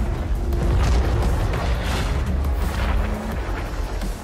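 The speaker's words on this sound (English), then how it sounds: "Crackdown 3 will also feature mass-scale destruction" Heavy rumbling booms and crumbling destruction in the open-world game Crackdown 3, loud and continuous with deep low-end roar throughout.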